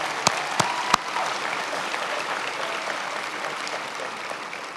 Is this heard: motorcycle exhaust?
no